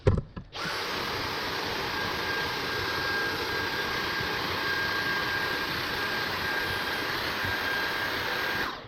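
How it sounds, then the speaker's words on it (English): A vacuum cleaner cleaning a very dirty heating baseboard runs steadily and loudly after a brief clatter at the start, its whirring roar holding constant throughout. "I'd rather use the vacuum."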